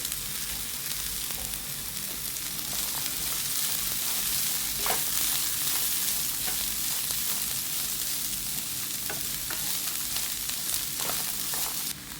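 Long beans with onion, chilli and curry leaves fry steadily in a pan, a dense, even sizzle throughout, broken now and then by brief scraping strokes of a stirring spoon close by.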